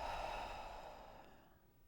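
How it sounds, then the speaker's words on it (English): A single deep exhaled breath, close and soft, with airy breathiness that gradually fades away. "take 3 nice deep breaths with me"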